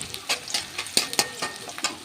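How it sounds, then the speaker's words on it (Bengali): Chopped onions, already turning reddish-brown, stirred and fried in hot oil for a chicken feet, skin and wing dish with bottle gourd; a steady close sizzle broken by repeated spoon scrapes against the pan. "এখন আমি পেঁয়াজ কুচিগুলো ভালোভাবে নেড়ে চেড়ে"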